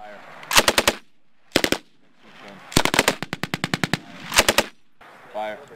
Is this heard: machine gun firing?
yes